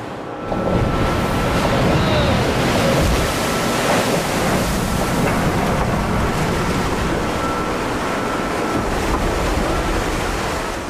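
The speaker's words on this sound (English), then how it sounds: "Waves crashing over the stern can easily sweep a crew member into the icy, churning sea" Heavy waves in a full Antarctic gale crash over the open stern ramp of the icebreaker Akademik Fyodorov, a loud, continuous roar of churning seawater and wind flooding the deck, with no talk.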